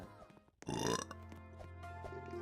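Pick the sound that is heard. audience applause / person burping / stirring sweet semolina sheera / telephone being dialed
person burping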